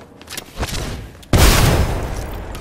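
A grenade blast in a shooter video game: a sudden loud boom midway that rolls on into a sustained rumbling decay, preceded by quieter game noise and faint shot-like pops.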